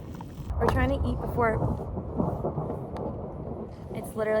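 Low rumbling thunder from an approaching storm rolls through a mountain backcountry campsite at Mount Assiniboine, a long distant growl that swells and fades under people talking nearby.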